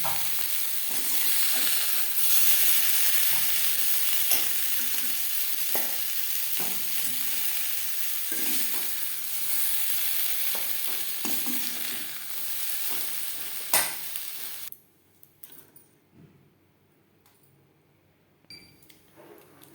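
Potato and pointed gourd pieces frying in oil in a wok, a continuous close sizzle with scraping stirs for about fourteen seconds, then the sound drops to near quiet.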